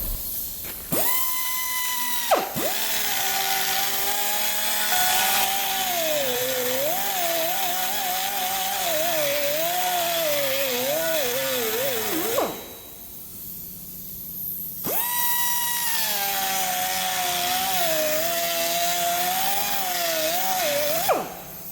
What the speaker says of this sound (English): I'm just going to use a die grinder instead